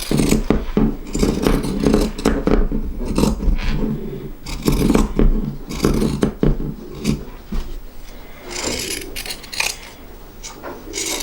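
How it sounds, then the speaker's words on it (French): Pinking shears snipping out stitches in fabric while sewing a made-to-measure bathrobe, repeated close crunchy cuts and scraping rubs in an uneven rhythm. "J'enlève avec mes ciseaux cranteurs, mais vous pouvez enlever avec vos ciseaux normaux de couture."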